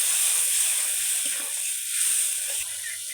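Chili paste, turmeric and salt sauté in a pan, giving a steady, moderate sizzle with a few soft stirring knocks near the end and no voices.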